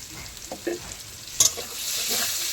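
Pieces of pointed gourd sizzle and fry in hot oil in a pan, stirred with a few distinct scraping touches and one sharper clatter midway, the frying hiss steady and close with no talking.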